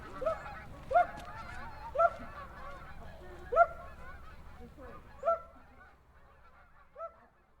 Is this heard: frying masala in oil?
no